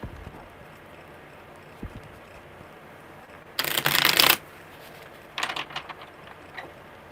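Two bursts of tarot cards being shuffled, a longer riffle followed by a shorter one, close and crisp against a quiet room.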